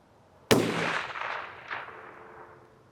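A single sharp rifle shot cracks out at a shooting range with steel targets, followed by a long ringing decay and a faint second clang as the round strikes steel, with no talk.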